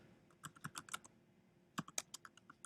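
Quiet, close typing on a computer keyboard, entering poll responses in two quick bursts of rapid key clicks separated by a short pause.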